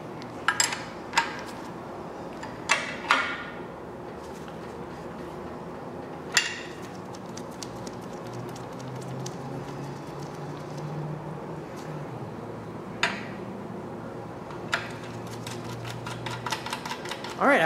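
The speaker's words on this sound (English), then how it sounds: "So now we can go back and tighten all of our bolts that have to deal with the adjustment" Alternator bracket bolts on a Chevrolet 454 big-block engine are tightened, with scattered metallic clinks and ratcheting taps at irregular intervals under someone talking close by.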